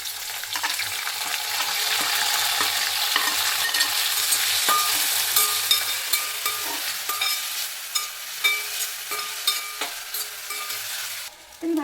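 Onion and tomato fry in a pan with mustard seeds and crushed garlic, sizzling steadily while a spoon scrapes and stirs in repeated clicks and scratches, close by with no talking, the sizzle easing toward the end.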